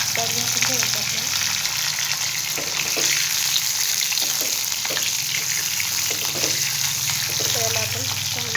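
Stuffed bitter gourds sizzle and fry steadily in a hot pan with cumin, punctuated by scraping stirs of a spatula, a continuous close crackle without any speech.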